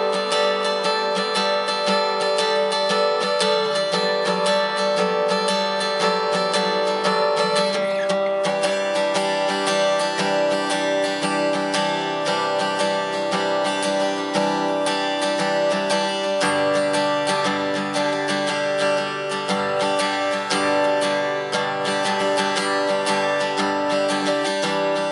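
Guitar plays the third verse of a song, a steady, full strummed and ringing part that runs continuously and loudly for the whole stretch with no voice over it.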